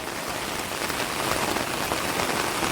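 Heavy monsoon rain pours steadily over tiger country in Jim Corbett, a dense, even hiss of drops drumming on surfaces with no break and no voices.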